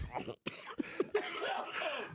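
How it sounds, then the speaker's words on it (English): A few short, raspy coughs break up a voice, close and fairly loud. "I coughed myself"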